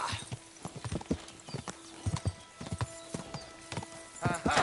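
A horse in the video game Kingdom Come: Deliverance 2, with rapid rhythmic clip-clop hoofbeats close by, a short whinny near the end and a voice speaking faintly underneath.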